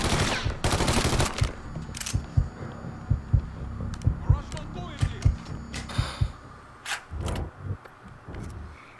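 Gunshots in the video game Mafia III, a rapid string of sharp single shots fired one after another at a steady pace, with occasional voices between them.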